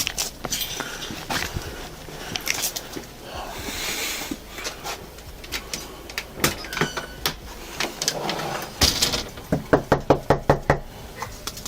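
Police officers rap on the door of a house with scattered sharp knocks, then a fast run of loud, evenly spaced blows near the end, heard over low background noise.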